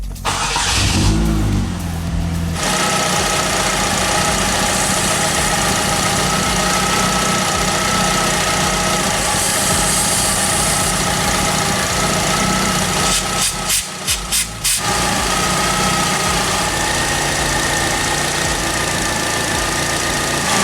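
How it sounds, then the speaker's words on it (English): A car engine idles steadily during a test for leaks around its fuel injectors, giving a continuous, even hum with a few brief dips and wavers as spray is applied nearby, and no talking. "So let's start the car, get it to idle, and put a little bit of spray around it to see if that idle changes."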